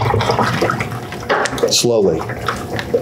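Near-boiling water is poured into a LightObject wort chiller, making a close splashing, gurgling flow while people talk over it.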